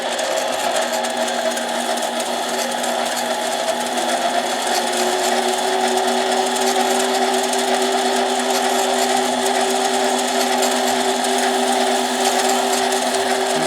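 A chainsaw piston for a Husqvarna 372 XP being sanded with sandpaper, a steady loud continuous abrasive rasp with a sustained mechanical hum running throughout.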